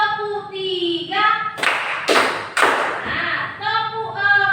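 Three sharp broadband hand claps in an evenly spaced row during a classroom clapping game, set between a teacher's spoken instructions.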